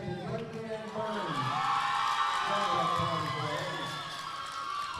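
Crowd cheers and whoops rise at a San Antonio livestock show as the market barrow heavyweight champion is named, a moderate swell of shouting under an announcer's voice.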